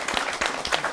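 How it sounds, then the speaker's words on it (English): Applause from an audience at a community college careers event for TV, theatre and film, a brief burst of clapping with audible individual claps, moderately loud and close. "Round of applause."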